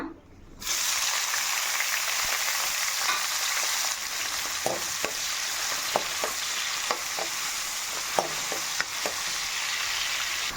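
Onions and green chillies hiss and crackle as they fry in oil for a chicken curry, a loud, steady sizzle with occasional spoon taps and stirring clicks and no voices.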